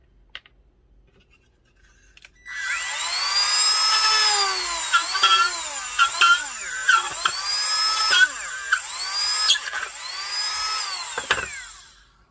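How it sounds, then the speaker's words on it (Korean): A power drill bores a hole for a socket in a DIY electrical job, running in loud whining bursts with rising and falling pitch sweeps over about ten seconds, with brief pauses and a final stop. "이렇게 타공을 해주면 소켓이 들어가겠죠"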